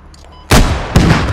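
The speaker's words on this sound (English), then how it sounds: "Don't fire any mortars over here." Mortar and gunfire blasts in a video-game battle: two loud, sharp booms about half a second apart, each trailing off in a short rumbling echo after a quiet start.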